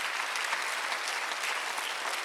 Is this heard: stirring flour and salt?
no